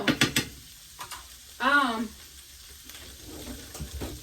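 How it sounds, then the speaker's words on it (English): Chickpeas cooking with onions in hot oil for a vegan chickpea pocket meal, a soft sizzle under a few scraping stirs and light clinks, with a short burst of speech partway through. "when you add the chickpeas in there with those onions, this is how it looks. So it's going to start simmering and cooking with the oil."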